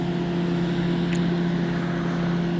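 A motorboat's steady engine drone hums throughout as it passes on the Dniester River, constant and fairly loud with no voices.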